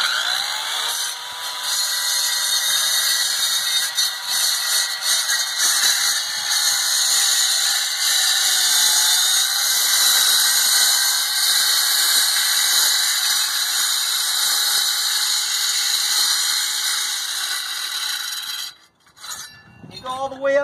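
A power saw blade cuts into a brick wall for a dog door opening, a loud continuous high-pitched grinding whine held close and steady almost throughout, dropping out briefly near the end before restarting.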